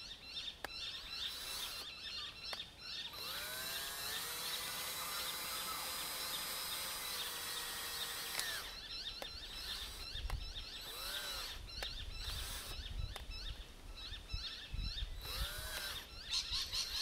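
A power drill drives a Flow Hive honey pump in a field test, a steady high mechanical whine running for several seconds before cutting off, followed by intermittent clicks, rattles and short whirring bursts.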